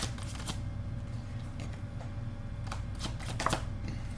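Tarot cards are shuffled and drawn by hand, with soft, continuous riffling and light flicks of card stock close by over a steady low hum, no talk.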